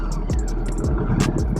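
Race car engine passing close by, a loud revving roar with repeated throttle blips and rising pitch sweeps over steady road noise.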